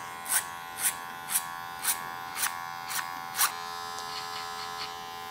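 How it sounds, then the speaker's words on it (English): An electric hair clipper cutting hair over a comb in a men's haircut buzzes in seven short, evenly spaced strokes, close and fairly loud, then settles into a quieter steady hum, with no talking. "Clipper over combed and established a lightweight line."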